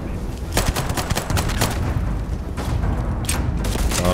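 Dense, rapid sci-fi gunfire from the video game Starfield hammers away in close repeated bursts, loud and continuous, with no talking.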